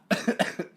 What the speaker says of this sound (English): he keeps on coughing